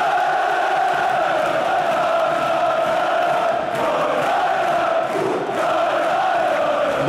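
A packed stadium of fanatical Croatian football fans gives off a loud, continuous roar of massed voices, a dense, steady wall of crowd noise with faint surges of shouting.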